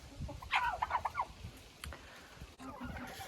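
Chickens in a coop, including a rooster kept with Marans hens, giving a burst of throaty clucking and gobbling calls near the start, then quieter scattered clucks and rustling in the hen house.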